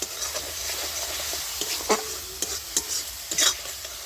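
Spice paste with turmeric and salt stir-fried in a pan, steady close sizzling broken by repeated scraping stirs of a spoon against the metal.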